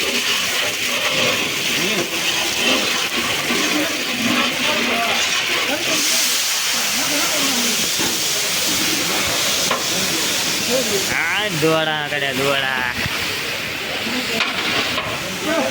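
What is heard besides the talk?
hot oil tempering (vaghar) for kadhi sizzling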